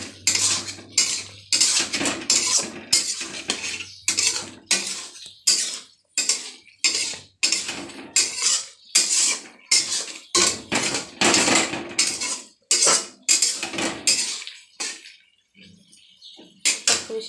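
Boiled potatoes are mashed in a metal pot with a utensil, producing loud rhythmic clanks and scraping thuds repeated in quick succession, close up and with no talking.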